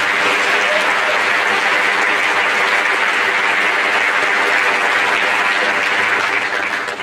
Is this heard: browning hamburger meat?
no